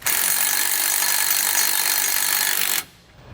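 A 9/16 socket on a power tool runs down carriage bolt hardware while installing SumoSprings Rebel helper springs on a 2015 Winnebago, a loud, continuous, close whirring grind that stops abruptly after about three seconds.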